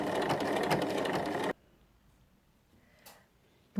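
A sewing machine runs in a steady dense burst, stitching quilt batting onto fabric for a glasses case, then stops abruptly, leaving near silence with a faint click.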